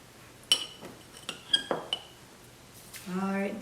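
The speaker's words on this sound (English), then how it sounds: "Go ahead and spoon some of your seasoning in there." Spoon clinks against a bowl several times while seasoning is scooped into oil, a few sharp metallic taps spread across the clip, then a voice briefly at the end.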